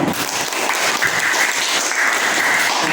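Applause in a classroom, a steady wash of clapping from a group of students lasting the whole stretch, fairly loud and close, with no one talking over it.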